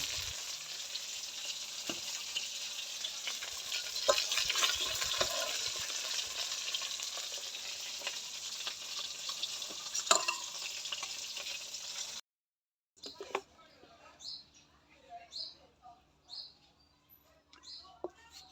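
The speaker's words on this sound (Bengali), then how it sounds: "কড়াতে একটু তেল দিয়ে দিলাম সবজিগুলো বাইজা নিব কপি আলু বাগুন আর ফুলকপি একসাথে সব বাইজা নিব" Cauliflower, potato and eggplant fry in oil in a pan, a steady close sizzle with scattered clicks of stirring. It cuts out abruptly after about twelve seconds, and quieter intermittent sounds follow.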